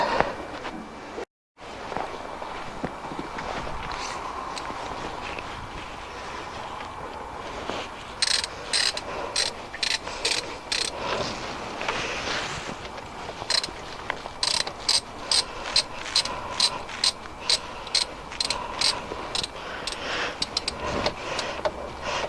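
A hand ratchet tightens the thermostat housing bolts on the A12XER engine block of a 2010 Vauxhall Corsa, with quick runs of close, crisp clicks repeated in bursts against a steady workshop background.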